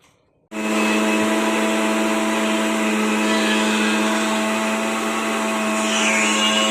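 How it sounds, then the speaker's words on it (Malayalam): A kitchen mixer grinder whirring through coconut and cumin, starting abruptly and holding a loud, steady motor whine with a grinding rasp, close and alone. "നമ്മൾ തേങ്ങയും ജീരകവും എടുത്തിട്ട് മിക്സിയിൽ അരച്ച്"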